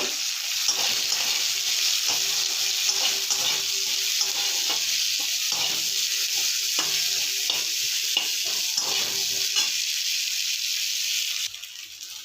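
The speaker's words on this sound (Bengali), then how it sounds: "পেঁয়াজ ভাজা হয়েছে" Onions frying in hot oil with cumin seeds and bay leaf, a steady close sizzle and hiss with occasional scraping stirs, left after eggs were fried in the same pan.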